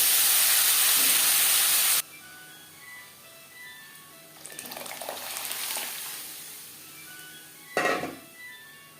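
Boiled moong dal tipped into a hot pan with whole cumin seeds for a vegetarian winter dal: a loud bright hiss that cuts off abruptly, then softer bubbling steam, closing with a short clatter of a utensil.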